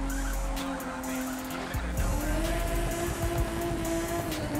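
The tires of a tuned Nissan Fairlady Z432 squeal in The Crew 2, a long wavering screech over the car's engine, close and steady.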